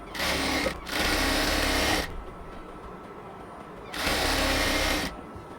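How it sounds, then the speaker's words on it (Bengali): A sewing machine stitches a baby palazzo in two loud, steady runs of rapid whirring, each about a second or more long, with short pauses and a quiet gap between them. "আমি হচ্ছে এবার উপরের দিকে সেলাই করে নিচ্ছি।"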